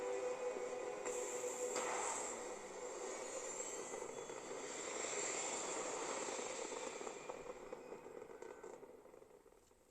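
Spaceship liftoff in the Starfield video game: a steady broadband engine roar with a high whine, holding loud for most of the span and tapering off near the end, no voices.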